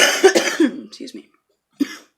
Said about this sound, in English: excuse me, for all my coughing